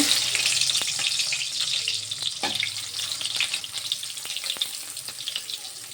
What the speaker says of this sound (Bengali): তেলটা গরম হয়ে গিয়েছে, পেঁয়াজ দিয়ে দেবো।